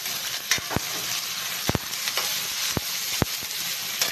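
Ginger, garlic, lemongrass, onion and tomato sizzle steadily in hot oil, with a few sharp clacks of a spatula stirring the pan at irregular moments.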